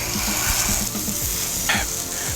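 Chorizo sizzling in a skillet, a steady loud fry with repeated stirring scrapes at a fairly even rhythm and one brighter clink near the end.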